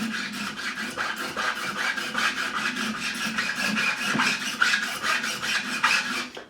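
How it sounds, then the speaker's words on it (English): A profiling file rasping across a fret on a Fender Thinline Telecaster Deluxe Player Series guitar, with close, steady back-and-forth strokes repeating in an even rhythm. "finish off with the profiling file. This is already profiled. This will remove any burrs and just even off what I've just cut."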